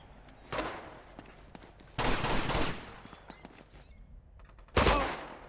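Gunfire in an Uncharted 2 firefight, three loud bursts of rapid automatic shots separated by quieter gaps with scattered single cracks and ricochet pings, close and sharp.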